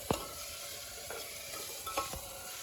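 Marinated meat masala sautéing in a pan over an outdoor cooking fire in the Purulia hills, a steady soft sizzle broken by a few scraping stirs of the spatula, fairly quiet throughout.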